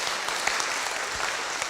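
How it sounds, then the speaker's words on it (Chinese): An audience at a church prayer meeting claps together in a steady, dense burst of applause, close and fairly loud throughout, with no voices over it. "拍手一下，拍手一下。"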